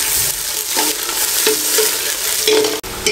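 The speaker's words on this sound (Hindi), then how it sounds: "एक पाव प्याज इस तरह बारीक कटी हुई इसमें शामिल कर दें और इसको हल्का सा ब्राउन कर लें" Finely chopped onions frying in hot oil for beef paya, sizzling loudly and continuously while being stirred, with a few scraping strokes and a brief clink near the end.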